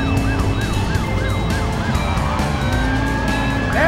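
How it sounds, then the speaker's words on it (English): A wailing ambulance siren in the Driver San Francisco driving game cycles in repeated rising and falling sweeps, loud and continuous over steady car engine and traffic noise, with no talking. "Hey, ambulance coming through!"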